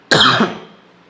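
One loud, close cough from a man teaching in a closed room full of paint fumes, a single harsh burst that fades within about half a second.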